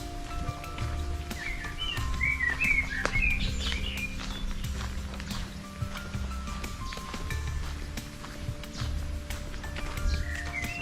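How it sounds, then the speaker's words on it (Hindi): Scattered bird calls come through a walk in a jungle-themed park in Malmö, with a cluster of chirps early on and a few more near the end, over footsteps and constant ambient hum. "परिंदों के चहचहाने की आवाज़ें आप यकीनन सुन रहे होंगे।"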